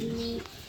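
A single short, low coo comes from high-flyer pigeons in a loft, close and clear, then fades into a quiet room.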